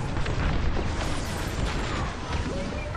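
Missiles exploding in dense space combat in Star Wars Squadrons, a continuous loud roar of blasts and booms with no clear gaps between them.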